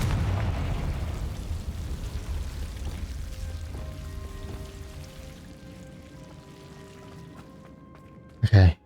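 A Confringo blasting spell in Hogwarts Legacy erupts in a loud, rumbling explosion that slowly fades over several seconds, with faint tonal chimes in the tail and a sharp thump near the end.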